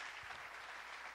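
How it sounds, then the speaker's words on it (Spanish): A brief, faint burst of church congregation applause, a continuous soft wash of many hands clapping, steady and distant with no clear individual claps. "Démele un aplauso a Él, por favor"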